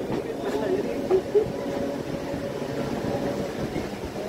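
A metre gauge passenger train standing at Jamalpur station, a steady low rumble with a few brief louder knocks, heard under people talking nearby.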